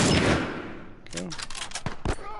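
Several sharp gunshots in The Last of Us video game, a few spaced cracks following a loud rush of noise at the start, with faint game voices in between.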